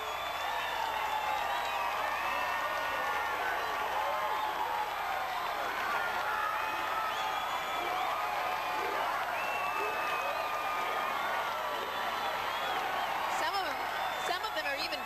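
A crowd cheers and applauds at the Seattle Seafair Torchlight Parade while Navy units march past, a steady wash of whoops and clapping with a voice speaking over it.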